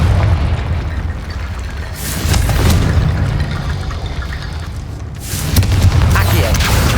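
Confringo fire spell explosions in Hogwarts Legacy, heavy low booming blasts rumbling around 2 seconds and again near 5.5 seconds over a continuous roaring game soundscape, with no talk.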